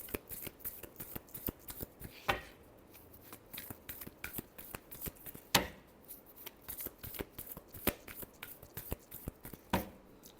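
Tarot cards shuffled by hand produce quick, continuous flicking and riffling clicks, close and soft, punctuated by a few sharper slaps as the deck is squared, with no speech.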